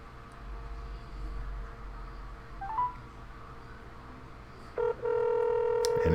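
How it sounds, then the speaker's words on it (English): Telephone keypad tones play over a speakerphone beneath a steady hiss, a brief tone near the middle, then a sharp burst of stacked dialing tones close to the end. "And it's dialing."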